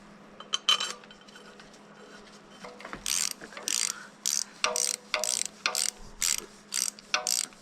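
Ratchet wrench tightening a bolt on a rebuilt skid steer engine, a series of short rapid clicking bursts repeating in a steady rhythm, close and fairly loud, with a low steady hum underneath.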